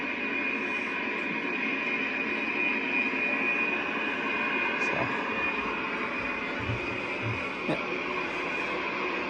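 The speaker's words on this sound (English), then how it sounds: "They've graciously put some sound effects in here so we can kind of get an idea what the thing would have sounded like when they're running" Simulated diesel engine room sound of a WWII submarine, played in a museum boat, forms a steady, droning mechanical hum with a constant whine, even and continuous at moderate level throughout.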